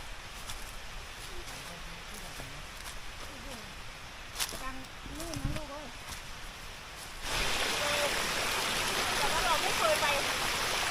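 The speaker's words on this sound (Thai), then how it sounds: "โอ้เสียงน้ำตกหลาย ดังมาเลยนะครับ" Distant rushing water from a waterfall, a steady broadband roar that swells louder near the end, with a voice speaking briefly in the middle.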